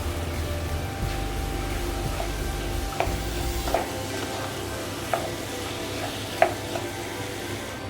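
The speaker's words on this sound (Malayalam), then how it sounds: "അപ്പം നമ്മുടെ മസാലയും ബീഫ് കഷ്ണങ്ങളും എല്ലാം നല്ലപോലെ മിക്സ് ചെയ്തിട്ടുണ്ട്" Fried beef pieces are stirred into simmering masala for Kerala-style beef pickle, giving a steady sizzle with occasional spoon scrapes and clinks against the pan, close and continuous.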